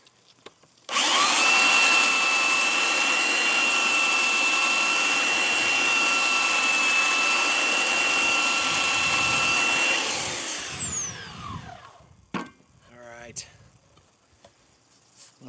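A power sander whines steadily for about nine seconds, loud and close, then winds down, followed by a few scraping and handling noises.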